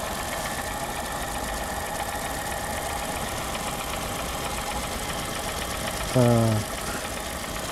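With the bonnet open, a Honda Fit 1.3 engine idles in a steady, even hum, and a person speaks briefly over it.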